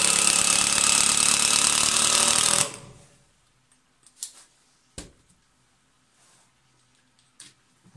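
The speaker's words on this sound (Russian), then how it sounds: "Так, ну и с ним кратко, значит, будет сухостой, доска, закручивание идет у нас." Black & Decker BDCIM18N cordless impact driver driving long screws into dry seasoned board, a loud dense buzzing hammer run for under three seconds that cuts off abruptly, followed by a few faint clicks and knocks in near silence.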